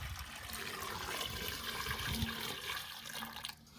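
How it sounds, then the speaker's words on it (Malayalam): Water poured into a terrace wick irrigation pipe setup for grow bags, a steady close splashing and trickling flow that runs on for a few seconds and then tapers off, with no talk. "നമ്മൾ വെള്ളം ഒഴിക്കുക ഒഴിക്കണം. Okay okay okay ഒഴിക്കട്ടെ."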